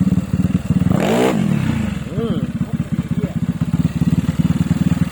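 Yamaha Mio scooter engine, an older model converted to fuel injection, idling with a rapid putter, then briefly revved in short blips, close and loud while someone talks over it.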